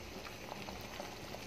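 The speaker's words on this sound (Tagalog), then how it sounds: "Kumukulo na ang ating sinigang na bangus." Sinigang na bangus, a milkfish soup, simmers in a pot with soft, continuous bubbling and occasional small pops, faint and close by.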